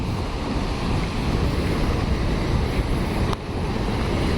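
Heavy water flow at Dhuandhar waterfall on the Narmada river at Bhedaghat, a loud, steady broadband roar of rushing water that fills the whole clip with no pauses, close and constant.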